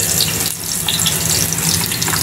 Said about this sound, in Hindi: सॉस पैन में मैंने ऑयल गरम किया है, उसमें लहसुन कटा हुआ डाल दूंगी